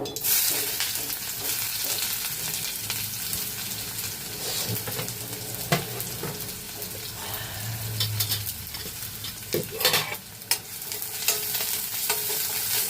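Chopped onion and garlic sautéing in a pan with mustard seeds, a continuous loud sizzle overlaid with repeated scraping and clinking of a stirring spoon.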